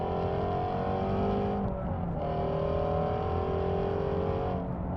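A 2016 Ford Mustang GT350R's exhaust burbles steadily from inside the cabin while driving, a loud continuous engine drone with a brief dip around a gear change.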